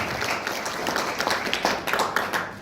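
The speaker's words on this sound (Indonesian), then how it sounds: "Tepuk tangan buat panjenengan semuanya Bapak Ibu." Audience applause from a seated crowd at a Javanese-language motivational seminar on MLM success, a dense steady patter of many hands clapping throughout, fairly loud and without pause.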